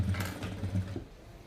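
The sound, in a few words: sewing machine stitching a double stitch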